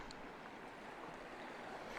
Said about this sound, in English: And waterfall, waterfall, waterfall.